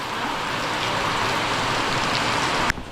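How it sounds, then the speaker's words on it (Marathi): Heavy, steady monsoon rain pours down in Ratnagiri, Konkan, in a dense, continuous hiss, close and loud, with a brief knock near the end. "पाऊस बघा केवढा आहे आता जस्ट आला पाऊस"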